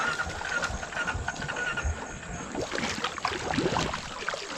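A Honda 420 four-wheeler ATV idles roughly in the rain, a low uneven engine rumble mixed with water noise and scattered splashes, close by.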